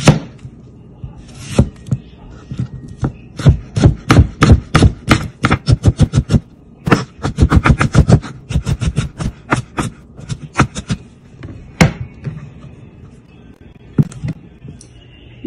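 A knife chops through a raw green tomato on a board in quick, loud runs of sharp, close strokes, broken by short pauses and a few isolated single chops, with no talking.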